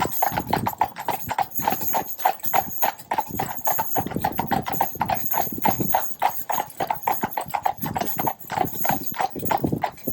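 A horse moves at a gentle jig-jog trot, its hooves clip-clopping in a steady, continuous rhythm close by, with a faint engine hum and occasional snorting beneath.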